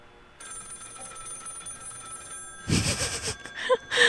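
A telephone rings inside a character's head in the horror game Finding Frankie, a steady electronic trill that runs for a couple of seconds before louder bursts of game sound break in.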